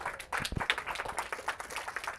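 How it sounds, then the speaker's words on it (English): A small group at a supervisor training session applauds, a brisk round of close, bright hand claps that stays fairly even throughout. "Another round of applause"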